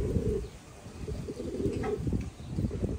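A Thai Titan meat pigeon coos in low, throaty bursts close by, with a brief lull partway through before the calls resume.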